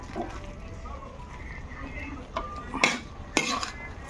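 Pinakbet vegetables stirred in a pot, with a soft background sizzle and a few clinks and scrapes of a metal utensil against the pot toward the end, close by.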